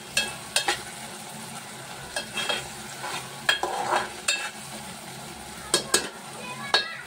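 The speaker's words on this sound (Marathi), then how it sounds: "आपण मसाला व्यवस्थित भाजून घेऊया" Masala roasting in a pan for a soya dish, with repeated spatula scrapes and clicks against the pan over a light sizzle, close and fairly loud.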